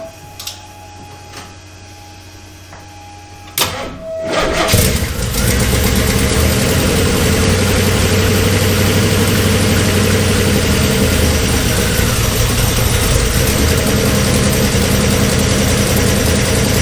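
A FrankenNova race car engine cranks briefly after a quiet lull, then fires up and keeps running loud and rough, its uneven idle droning steadily to the end.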